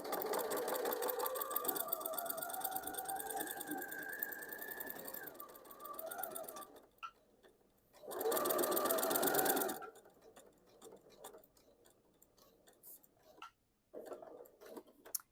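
A sewing machine stitches the layers of a quilted mug rug, running in a long steady burst, pausing, then firing a second short loud run before quieter handling noises close by.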